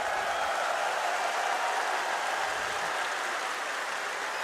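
A crowd in an esports arena at a Counter-Strike major in Krakow cheers a Gambit victory, a dense, continuous roar of applause and shouting that holds loud and even throughout, with no voices standing out.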